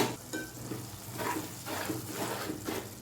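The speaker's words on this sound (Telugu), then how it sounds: "ఐదు నిమిషాల లోపు ఒక్కసారి అయితే కలుపుకుందాం కర్రీని" A spoon stirs a simmering potato, tomato and fenugreek curry in a pan, making rhythmic wet scraping strokes, about five or six of them, over a soft, steady sizzle.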